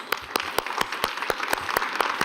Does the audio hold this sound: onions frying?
no